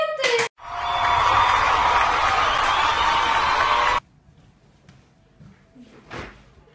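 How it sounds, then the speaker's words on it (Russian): A burst of applause, dense steady clapping for about three and a half seconds that cuts off abruptly, preceded by a short clatter and followed by faint background noise. "Аплодисменты!"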